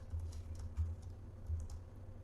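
Quiet typing on a computer keyboard, a soft run of light key clicks with a few slightly heavier taps, close by and alone without speech.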